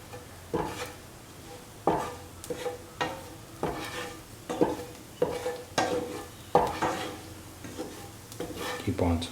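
A utensil scrapes and stirs through pumpkin shrimp stew in a pan, giving about a dozen regular strokes, close and fairly faint, with a soft sizzle underneath.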